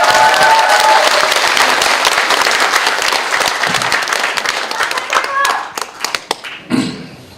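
A crowd applauds loudly at a Seongnam election campaign office opening. The dense clapping holds steady for about five seconds, then thins into scattered claps and a few thuds.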